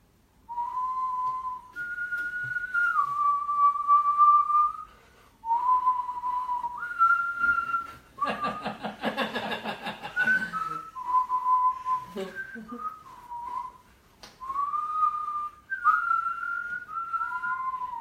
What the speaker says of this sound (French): Emmène le sifflage.